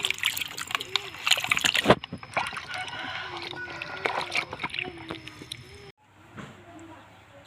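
Green mangoes are washed in a basin of water, with steady splashing and sloshing close by and voices talking over it before the sound briefly drops off.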